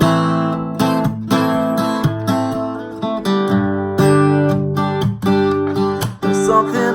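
Guitar playing of a country song, with steady chord strums and picked melodic lines, loud and close, with no voices.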